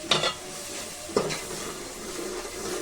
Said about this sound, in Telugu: చిల్లీ పౌడర్ బాగా కలుపుకుంటున్నాను నేనైతే. కలుపుతుంది బాగా.